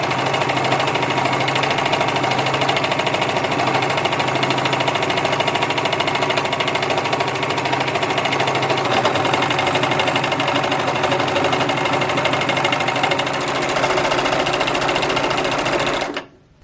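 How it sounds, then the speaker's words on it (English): A heavy duty serger stitches through denim in one continuous, loud, rapid mechanical whir that runs unbroken for about sixteen seconds, then cuts off abruptly. "let's take a look at how the Serger heavy duty serger sews"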